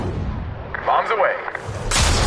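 Bombs go off in Call of Duty Black Ops 6, a loud burst of blasts and rumbling booms crashing in quick succession, then a fresh wave of noise near the end.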